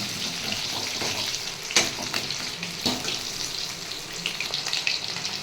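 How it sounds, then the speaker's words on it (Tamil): Chicken 65 deep frying in hot oil, a steady loud bubbling sizzle that runs throughout, with a few sharper crackles and spits rising above it. "நல்லா கிரிஸ்பியாக ஆகிற வரைக்கும், இந்த பபிள்ஸ் எல்லாம் அடங்குற வரைக்கும் நல்லா சிக்கன் வேகணும்"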